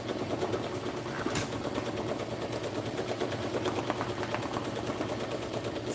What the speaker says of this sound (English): 650 stitches a minute. We're